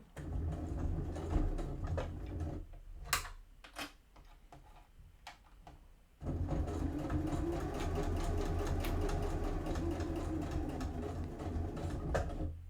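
A sewing machine stitches fabric for a small tie-shaped keyring in short bursts, pausing between runs, then settles into a longer steady whirring run near the mic.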